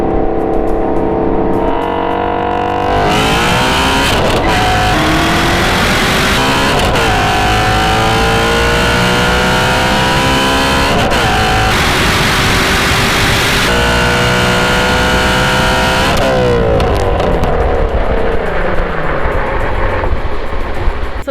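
Two muscle cars, a 2019 Camaro ZL1 1LE and a 2018 Shelby GT350, accelerate hard in a 40 mph roll race, engines roaring loud and close with rising pitch sweeps at each gear shift, continuous for the whole run.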